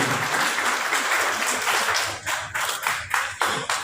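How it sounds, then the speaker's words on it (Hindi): Loud applause from an audience at a Valmiki Jayanti celebration in Delhi, a dense wash of clapping that breaks into separate rhythmic bursts toward the end, with no voices over it. "एक बार जोरदार तालियां बजाएंगे।"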